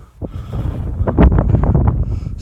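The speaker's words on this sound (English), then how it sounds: "It's a bit blowy, a bit windy in here," Wind buffets the microphone in loud, irregular low rumbling gusts that rise and fall.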